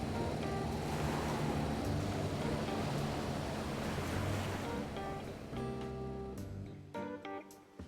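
A boat crosses the ocean in a video game, with a steady, soft wash of surf and rushing water and wind that thins out and turns choppy near the end.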